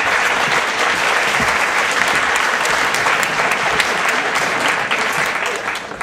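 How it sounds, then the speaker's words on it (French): Loud, sustained applause from a conference audience honouring a team, a thick wash of many hands clapping close and even throughout, easing slightly only at the very end. "vous pouvez les applaudir très fort,"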